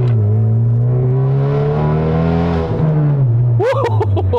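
Engine of a 2022 Honda Civic Type R FK8 hatchback drones loudly and steadily at high revs, dips briefly as the driver downshifts, then surges back with a sharp rising rev near the end.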